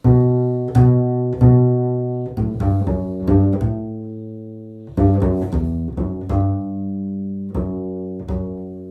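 A bluegrass upright bass plays the triplet rhythm from the B part of a Christmas song, with clear, resonant plucked notes in short groups of three and pauses between them, played solo and close.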